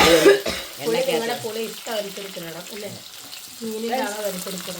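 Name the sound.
tamarind and curry leaves frying in oil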